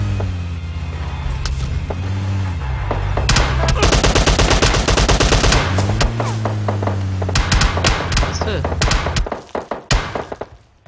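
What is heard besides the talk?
machine gun fire in the video game PUBG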